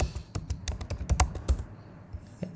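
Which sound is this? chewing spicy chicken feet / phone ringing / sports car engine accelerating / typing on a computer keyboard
typing on a computer keyboard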